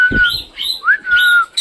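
Pigeons kept at a home loft give several short, bright chirping and whistling calls in quick succession. The calls are close and fairly loud, with no talk.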